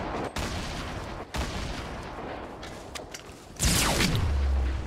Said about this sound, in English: Just shooting grenade launchers up.